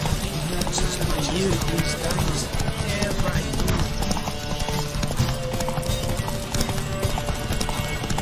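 Rapid, continuous hoofbeats of a galloping horse in The Witcher 3: Wild Hunt pound throughout, dense and loud, with a busy layered game soundscape and occasional whinny-like tones.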